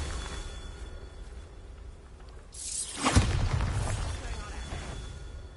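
A Bombarda spell blast in Hogwarts Legacy: a rising whoosh swells, then bursts into a loud, booming crack with a crumbling, shattering tail that fades over a couple of seconds against steady game background noise.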